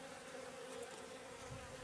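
Agitated bees swarm in an opened hive, a dense steady buzzing drone close by, continuous and fairly quiet with no voices.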